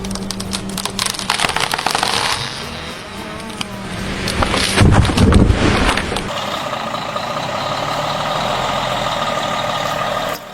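A fully loaded log truck rumbles through forest on a rough shortcut, its heavy engine growling loud and close with clattering and hissing, swelling mid-clip before settling into a steady drone.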